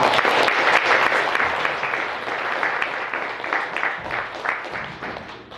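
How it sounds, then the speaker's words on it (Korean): A church congregation applauds steadily, dense clapping filling the whole stretch, loud and close, tapering slightly toward the end. "박수 한번 크게 주겠습니다."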